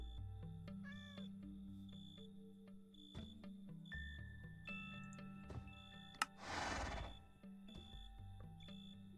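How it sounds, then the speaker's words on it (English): A cat in the video game Sunlit Valley meows a couple of times over soft game music and ticking, followed by a brief burst of noise. "Cat."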